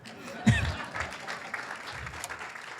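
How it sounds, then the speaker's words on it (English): A town hall audience breaks into clapping, a sudden loud burst that thins into scattered, fading claps over a couple of seconds, with a voice briefly audible. "Come on, clap."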